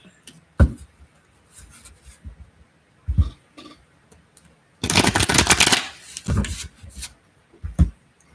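Tarot cards being shuffled in bursts: a few quick riffling flicks, then a dense rustling shuffle of about two seconds, followed by a couple more short card flutters, close and fairly loud with no talk.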